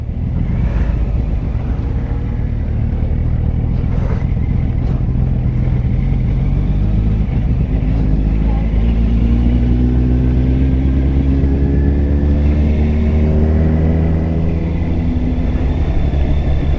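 Engine noise and road rumble rise and fall steadily from a motorcycle riding through busy tourist traffic on the Makarska Riviera in Croatia, loud and close with engine tones climbing as the bike accelerates.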